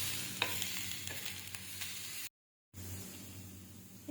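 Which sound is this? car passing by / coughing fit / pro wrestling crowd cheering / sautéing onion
sautéing onion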